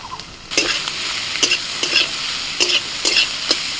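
Chopped mushrooms go into a wok with lightly fried ginger and green chili, setting off a loud, continuous sizzle broken by periodic scraping stirs; no one speaks.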